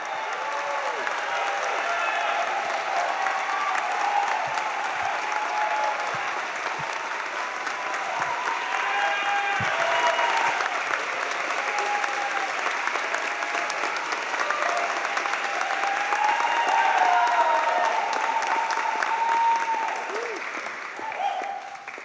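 A large audience claps in sustained, even applause at a Colorado College baccalaureate ceremony, the dense clapping continuing for over twenty seconds before tapering off.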